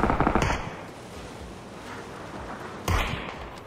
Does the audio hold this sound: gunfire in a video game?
yes